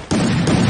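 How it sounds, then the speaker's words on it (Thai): A bomb explodes in a video game: a sudden loud, close blast that hits all at once and holds as a dense, roaring rumble with no pause. "ระเบิดมาแล้ว"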